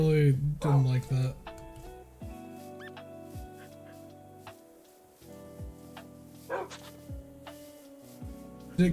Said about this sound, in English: I heard a yelp and I really didn't like that.